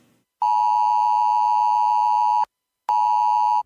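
Amber Alert emergency tone sounding on mobile phones: a loud, steady electronic beep with harmonics, held for about two seconds, cut off, then resuming for a shorter burst, with no voices.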